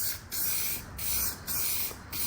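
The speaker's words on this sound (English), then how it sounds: "we are going to be spraying our paint right now" Gold paint sprayed onto the cab wing of a Nissan D21 pickup, heard as four steady, close hissing bursts from a spray gun, each about half a second long and separated by brief pauses.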